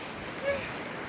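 Big ocean waves at Chandipur beach make a steady, broad roar mixed with wind noise, with a slight swell midway through the short stretch and no voices.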